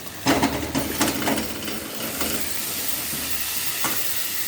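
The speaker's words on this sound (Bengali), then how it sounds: "এর মধ্যে এবার সোয়াবিন আলুটা ঢেলে নেব" Fried soybean and potatoes are tipped into hot spice masala in a wok, giving a loud sizzling hiss with a few sharp bursts of clatter and stirring near the start, after which a steady frying hiss goes on.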